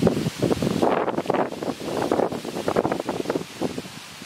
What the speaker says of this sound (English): The wind is really blowing something in